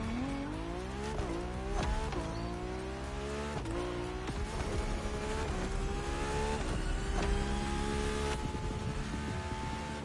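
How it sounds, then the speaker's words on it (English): A Ferrari F80 engine in The Crew Motorfest racing game, revving loudly and continuously as it climbs through the gears, with rising pitch, brief drops at the shifts and some tire noise. "It's definitely not electric, I hear an engine."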